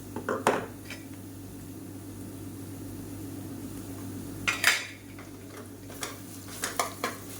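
Ginger garlic onion paste sautéing in a pan, a low continuous sizzle punctuated by a few sharp metallic clanks and scrapes of a ladle against the pan, moderately close and without speech.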